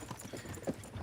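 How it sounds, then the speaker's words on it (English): Horse hooves clop on the road as a team pulls a carriage, a steady, faint rhythm of hoofbeats under general road noise and rumble. "don't you think maybe we could make the horses go a little faster?"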